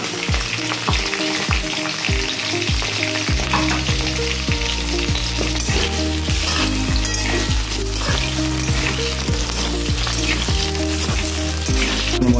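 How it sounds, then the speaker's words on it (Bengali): Green tomatoes lightly frying in a pan, a constant loud close sizzle under a repeating melodic tone pattern that runs throughout, with no voices. "আমি একটু হালকা করে জাস্ট ভেজে নেব"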